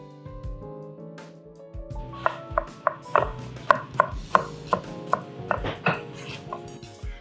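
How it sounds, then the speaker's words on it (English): A knife dices a Calypso mango on a board, starting with a few soft cuts and then moving into a quick series of sharp, evenly spaced chops, close and clear. "We just need it diced up."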